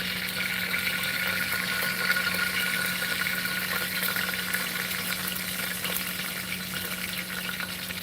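Cumin and mustard seeds sizzle in hot oil, a constant bright hiss with faint crackles running evenly throughout and no voices.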